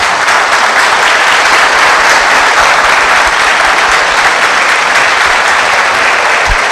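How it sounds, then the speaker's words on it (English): Dense, steady applause from a large audience at a lecture, with heavy continuous clapping filling the hall at full volume from start to finish. "Arey, clap, clap."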